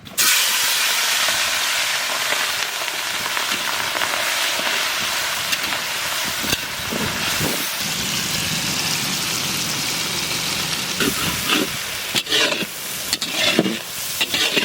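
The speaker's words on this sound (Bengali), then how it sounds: "তেল আমাদের গরম হয়ে গেছে, ঢেলে দেবো চিংড়ি মাছ।" Loud, continuous sizzling and hissing of prawns frying in hot mustard oil, steady throughout with occasional stirring clatter near the end.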